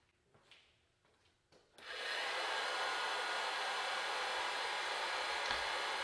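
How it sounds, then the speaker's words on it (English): A modified popcorn popper used as a coffee roaster, fitted with a rheostat-controlled heating element, switches on after a few faint knocks and runs as a loud, steady hot-air whoosh for several seconds. "I'm getting the coffee roaster preheated"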